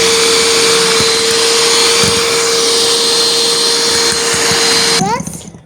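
An electric mixer whirs steadily at high speed through banana cake batter, close and loud, then winds down and stops near the end.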